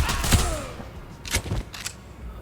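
Gunfire in a VR parkour video game, heard as a few sharp broadband shots spaced across the moment at moderate loudness, with game ambience underneath and no talking.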